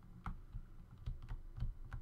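Computer keyboard keys pressed during Minecraft Pixelmon gameplay: a handful of separate soft clicks at uneven intervals, fairly close and quiet, with no voices.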